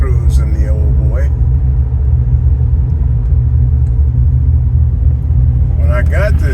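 A 1999 Dodge Dakota RT truck engine rumbles steadily throughout a cruise, a continuous low drone with road noise, while someone talks over it at the start and again near the end.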